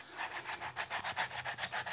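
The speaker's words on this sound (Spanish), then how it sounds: "lo que hay que hacer es pues lijarlas" Sandpaper rubs rhythmically over dead sabina juniper root wood, a steady back-and-forth rasp of about a dozen even strokes, close and alone with no talk.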